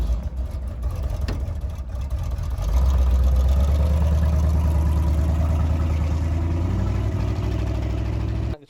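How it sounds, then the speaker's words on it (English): A Big Block Chevy V8 in a GMC truck runs rough, a steady low rumble that grows louder and heavier partway through, then cuts off abruptly at the end. "the Big Block runs like absolute garbage"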